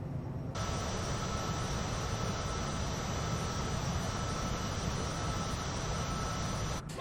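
A WT CJ4 business jet rolls and climbs away on takeoff in a flight simulator, its engine roar a steady, loud broadband rush that holds without a break for several seconds before ending abruptly.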